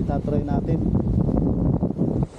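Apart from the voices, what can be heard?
strong wind outdoors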